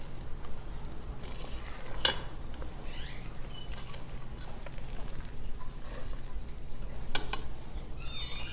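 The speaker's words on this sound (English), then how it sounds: "mix it all in until thoroughly combined" Thick pound cake batter with vegetable oil being stirred in a bowl, a dense wet patter with occasional clinks of the utensil against the bowl, close and continuous with no talk.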